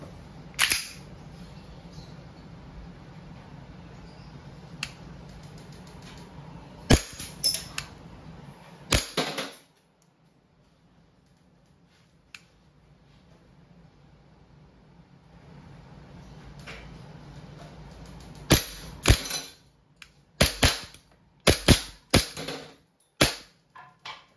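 An Umarex airsoft Glock 19 Gen 5 MOS pistol fires from gas and CO2 magazines. Sharp, close cracks come singly early on, then in a quick cluster of shots near the end, with quiet pauses between and no talking.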